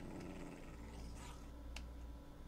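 Low, rumbling growl of a creature in the Minecraft video game, Nether setting, steady and faint beneath a quiet game backdrop with a couple of brief higher blips, no talking.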